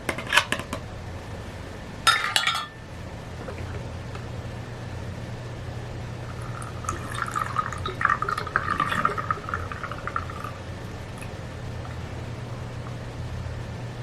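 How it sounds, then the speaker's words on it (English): Homemade hand sanitizer is poured through a funnel into a small spray bottle, with clinks of glass and plastic first, then a soft trickling fill under a steady background hum, close and without talk. "putting a funnel, and I'm just pouring this in."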